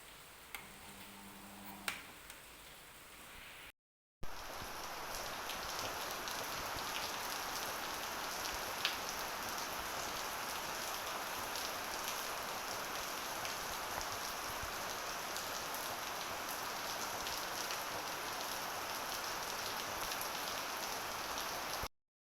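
Heavy rain falls steadily and densely on surfaces, a continuous loud hiss with scattered drips and ticks that runs almost without break for the whole stretch, preceded by a short quieter section.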